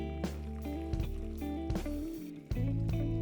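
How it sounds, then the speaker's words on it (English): Peanut broth stock for a Sudanese dish is poured from a pot through a coarse mesh strainer into a big bowl, giving gurgling, splashing liquid bursts with clanks of metal over a low hum, close and moderately loud. "I'm gonna pour my stock into here."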